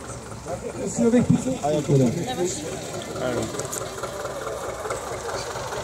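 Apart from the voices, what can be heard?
tractor engine while ploughing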